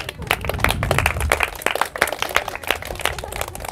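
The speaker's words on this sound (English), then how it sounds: "Round of applause" Students in a Spanish lesson clap in a looser, uneven round, with distinct individual claps standing out over a low rumble and brief voices in the background.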